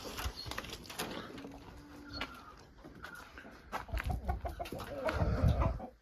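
Indian game chickens and roosters in an outdoor coop cluck and call in a busy, overlapping mix of fowl sounds, some near and some farther off, with no talking.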